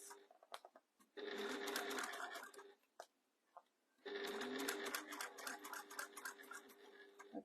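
A sewing machine back stitches the seam of a jewellery pouch in two sustained runs of rapid, close stitching, separated by a brief pause with light clicks.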